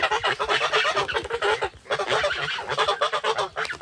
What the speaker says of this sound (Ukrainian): зараз гуси будуть тут